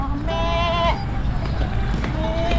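A goat gives a short, wavering bleat near the start, fairly close, over constant low background rumble and faint voices in an outdoor rural setting.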